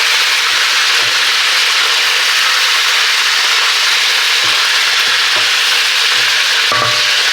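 Steak burgers frying in a pan, giving a loud, continuous close-up sizzle with a few soft pops and faint scraping taps scattered through it, and no voices.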